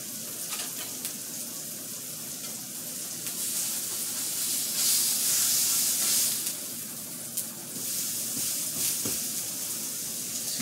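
Homemade burger patties and pineapple slices sizzle on a grill with a steady, loud frying hiss that swells in the middle, close and continuous with no talk.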